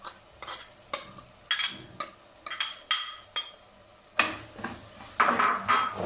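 A spoon stirs softened onion and tomato in a cooking pan, with a string of sharp metallic clinks and scrapes in an irregular rhythm, close and clear, the strokes getting busier toward the end.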